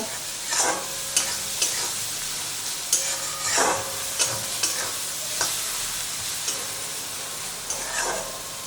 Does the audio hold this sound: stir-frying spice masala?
yes